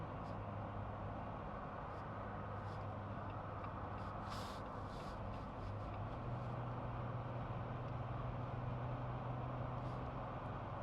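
Jeep Wrangler cruising at 64 mph on newly fitted tires, heard from inside as a steady, even rumble of road and tire noise with a low engine drone and occasional faint rattles, no talk.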